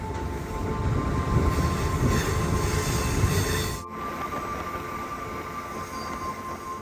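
A train rumbles steadily around a bend with a high metallic wheel squeal ringing throughout, loud at first then slightly quieter.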